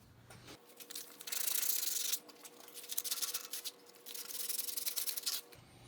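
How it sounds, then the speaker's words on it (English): Edges of a wooden bandsaw fence are sanded by hand in three sustained rasping passes, close and moderately loud, with short pauses between strokes. "I'm just gonna sand down these edges just so they don't catch anything."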